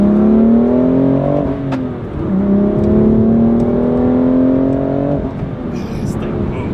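A lightweight stock sports car accelerates hard, its engine climbing in pitch through two gear pulls with a shift between them. Loud and close, as heard from inside the cabin.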